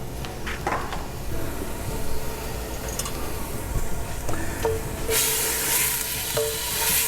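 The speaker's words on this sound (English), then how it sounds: "add the butter and add your onions, and we're going to saute them" Onions sizzle in melted butter in a pot over medium heat for a Panera-style broccoli cheddar soup, a steady close frying hiss with stirring scrapes and a louder burst of sizzle near the end.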